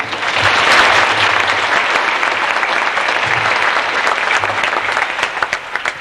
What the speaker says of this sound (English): Could we please have a round of applause for these parents?